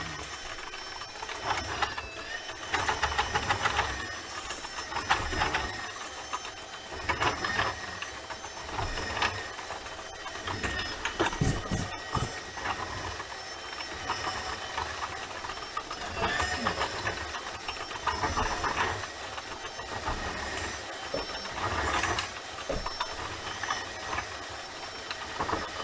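Milwaukee M12 cordless drain snake spinning its cable in a kitchen drain, a steady close mechanical whirring and rattling with clicks, running continuously without speech.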